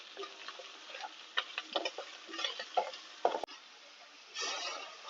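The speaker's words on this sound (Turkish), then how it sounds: "Bir yemek kaşığı kadar domates salçamı ilave edip kavurmaya devam ediyorum." Onions with a spoonful of tomato paste being sautéed in a pan, a soft sizzle with irregular scraping and stirring clicks from a spoon, quiet and close, a brief louder hiss near the end.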